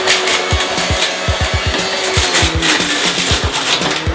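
A juicer grinding kale and celery, loud close motor whine with repeated thumping and crunching as the leafy greens and stalks feed through.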